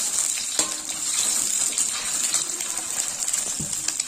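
Egg fried rice being stirred and tossed in a hot pan with vegetables, giving a continuous sizzling hiss with scraping and clinking of a utensil against the pan.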